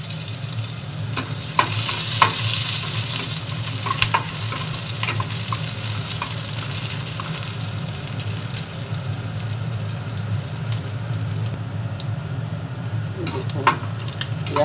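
Onions frying in oil for votvoti bata, a constant loud sizzle with occasional clinks and scrapes of stirring, no talk over it.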